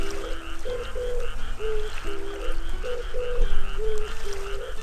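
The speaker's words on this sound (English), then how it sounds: "I just think the frogs are cool." Frogs croak steadily in the fishing video game Reel Fishing Angler's Dream, rhythmic repeated calls over a continuous ambient backdrop of game music and nature sounds, no talk.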